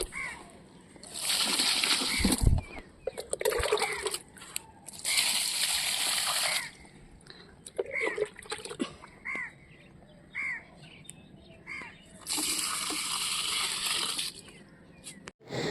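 Water splashes and sloshes onto potted plants in a rooftop garden in several bursts of a few seconds each, with crows cawing nearby between the pours.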